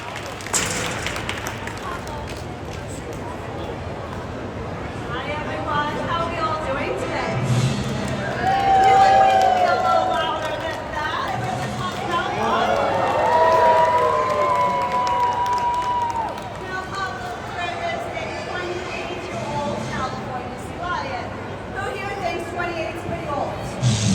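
A crowd claps and cheers for a California sea lion named Pablo at a sea lion show at West Edmonton Mall, a steady wash of applause with scattered shouts and whistles that swells and fades over the whole stretch.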